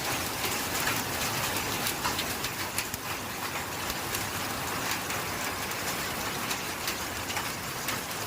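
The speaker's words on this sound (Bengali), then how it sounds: "আমাদের যে ছাদের যে টিন, এই টিনে ঠুং ঠাং করে দেখে যা কত আওয়াজ হচ্ছে।" Hailstones pelt a tin roof in a dense, continuous clatter of sharp pings and patter, loud and close, with rain-like rushing underneath and no voices.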